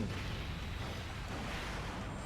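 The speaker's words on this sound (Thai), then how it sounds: "ระเบิด" A dense, rumbling explosion roars continuously from the mobile fighting game Dragon Ball Z Dokkan Battle, a thick wall of low booming crackle that stays loud and unbroken for a couple of seconds.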